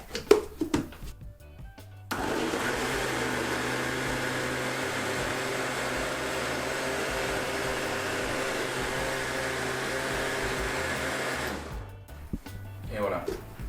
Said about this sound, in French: On va passer ça au blender pour bien tout mélanger.